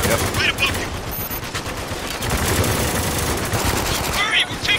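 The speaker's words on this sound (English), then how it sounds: "We're taking heavy fire." Dense automatic and rapid gunfire from the Spec Ops: The Line video game, a sustained loud barrage of overlapping bursts with voices faintly mixed in.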